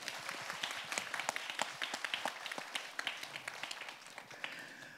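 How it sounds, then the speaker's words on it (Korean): Audience clapping at a live event, a dense spread of sharp claps sustained across the whole stretch at moderate distance, with no voices over it. "좋으시면 박수 한번 주세요."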